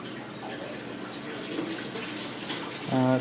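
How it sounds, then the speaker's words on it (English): Water in an aquarium sump falls about two inches with no filter sock, a steady, fairly loud splashing rush that runs continuously, with a brief tonal sound at the end. "Currently the sump is a little loud since there's no filter sock, and about a 2-inch drop from"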